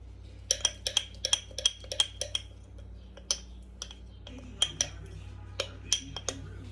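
A spoon clinks and taps repeatedly against the side of a bowl while sourdough starter is stirred, giving a quick, uneven rhythm of sharp, close ticks over a low steady hum.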